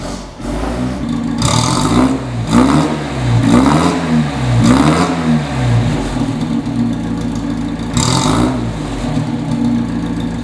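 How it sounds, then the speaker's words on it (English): A 1953 MG TD Roadster engine cranks and fires, then revs up and down in several rising and falling sweeps before settling, loud and close with no talking. "So what I would like to do if I could is start it up for you so you can hear what it sounds like."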